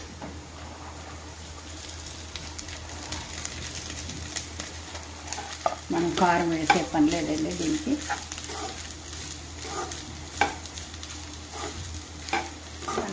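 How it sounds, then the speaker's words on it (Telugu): Rice with carrots and tempering being stirred and fried in a pan, a steady sizzle with repeated scraping strokes of a spoon that grow busier midway, close, while someone talks over it. "ఈ తాలింపు అంతా బాగా వేగుతుందండి"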